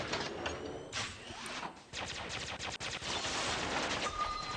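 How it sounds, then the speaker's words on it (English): A robot's machine gun in the War Robots game, rattling mechanical reload clatter mixed with dense bursts of rapid gunfire, loud and continuous over several seconds. "We'll just reload here."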